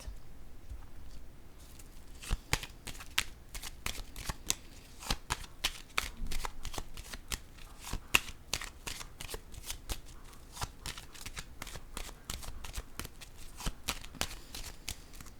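A deck of playing cards is shuffled over and over, with dense bursts of crisp riffling and sharp card snaps coming close and clear throughout.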